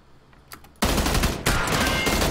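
Video game gunfire on a city street: after a near-quiet start with a couple of faint pops, loud rapid automatic bursts erupt abruptly and continue close up to the end.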